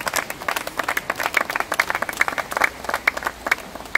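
A church congregation breaks into sustained applause during a baptism service, many hands clapping in a dense, even patter at moderate volume, with no voices over it.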